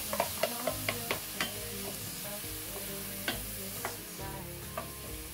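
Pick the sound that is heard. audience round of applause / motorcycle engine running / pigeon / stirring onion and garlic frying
stirring onion and garlic frying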